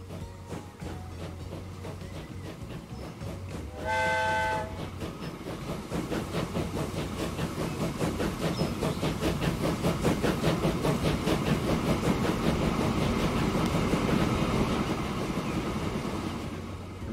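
A train in the video game Transport Fever 2 sounds a brief horn, then rolls off with rhythmic wheel clatter and engine rumble that build steadily and stay loud and continuous.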